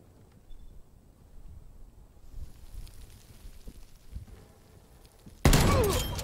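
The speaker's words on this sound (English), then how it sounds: "Hostile hand cannon shot." A single loud, sharp gunshot cracks out near the end after several seconds of low rumbling background noise, its echo trailing off.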